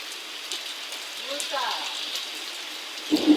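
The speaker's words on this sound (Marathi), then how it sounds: "वारा असल्यामुळे जास्त पाऊस आहे" Heavy rain driven by strong wind hisses steadily and loudly, with a brief voice murmuring partway through and a closer knock or thump near the end.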